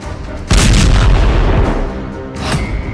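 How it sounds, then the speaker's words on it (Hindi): A loud, close blast from war footage in Syria erupts suddenly, its deep booming roar rolling on and slowly decaying, with a second, weaker burst of noise near the end; no talk. "धमाके का तीसरा वीडियो"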